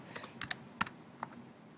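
Typing on a computer keyboard, with short irregular bursts of sharp key clicks at close range and no voices.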